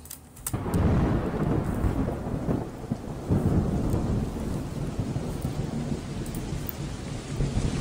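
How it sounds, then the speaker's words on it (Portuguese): Heavy tropical-forest rain sample in a psychedelic dub track built in Ableton Live, a dense, loud, steady downpour with rumbling thunder underneath, continuous throughout without any voice. "já começa com um som de chuva aqui, ó."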